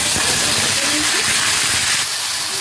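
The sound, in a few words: onion sizzling in hot oil with whole spices in a wok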